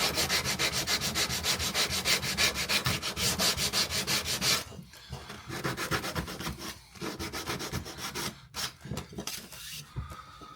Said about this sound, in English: And then, like so, bit of 80 grit sandpaper.